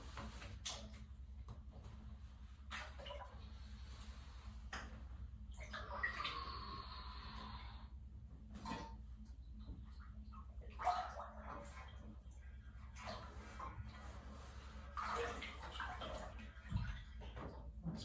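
Cold water running into a bathtub for a cold bath, a steady broadband rush with a low rumble, interrupted by brief bursts of splashing and movement in the water, heard close and without talk.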